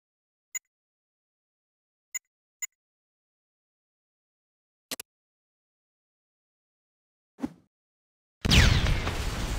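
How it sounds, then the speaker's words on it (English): Several sharp pops and clicks are spaced across a quiet stretch, then a grenade explosion bursts loudly at the end and rumbles on, thrown at a training dummy in a military video game. "Right-click on one of the dummies at the far side of the room to throw the grenade at it."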